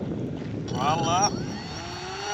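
A small RC camera plane's electric motor and propeller throttle up during a ground test, a rising whine that swells and wavers for about a second, then drops back under steady wind and background noise.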